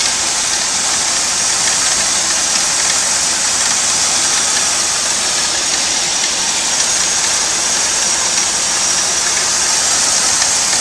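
A 1998 Cadillac Seville STS with a 4.6-liter Northstar 32-valve V8 idles steadily, a constant close hiss-laden hum with no talk.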